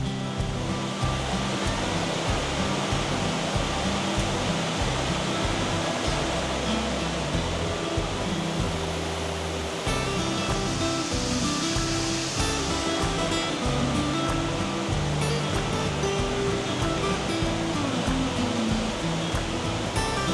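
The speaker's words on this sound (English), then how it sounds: "Our first stop was the Montezuma waterfall." Montezuma waterfall in Costa Rica roars as a steady, dense rush of falling water, loud and continuous throughout with no pauses.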